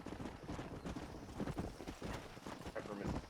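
Rhythmic clip-clop of horse hooves in the Red Dead Redemption video game, steady and fairly close, with voices talking over the galloping throughout.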